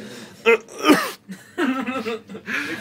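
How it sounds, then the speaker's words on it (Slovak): A person coughs a few times, short rough bursts close to the mic, aboard a train, with some breathy laughter mixed in between. "Sorry, ešte stále kašľam."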